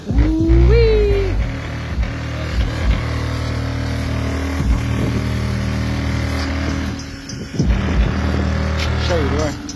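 A car audio subwoofer knocks out heavy bass that rattles the back glass: loud, booming low tones swell and fall across the whole stretch, with a pitch sweep near the start.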